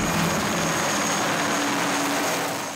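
Military helicopter arriving for a casualty evacuation in the desert, marked by smoke on the ground, heard as a steady, loud broadband rotor and engine roar with a faint tonal whine, continuous throughout and easing slightly at the end.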